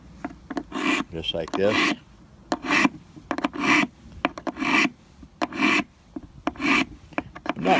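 Steady rasping file strokes cut a V-notch edge into an old, long-unsharpened knife blade with a rounded edge. The strokes come in a regular back-and-forth rhythm, close and fairly loud, with a brief bit of talk early on.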